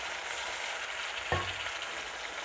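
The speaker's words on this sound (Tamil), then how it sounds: "அதையும் சேர்த்து நல்லா வதக்கி விட்டுக்கலாம்." Tomatoes, onions and green chilies sauté in a pan for a potato kurma, a soft, even sizzle with a single brief clank of a utensil partway through.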